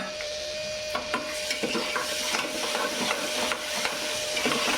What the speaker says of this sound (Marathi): कांदा आता आपण व्यवस्थित ढवळून घेऊ त्याच्यात आता टॉमॅटो टाकून घेऊ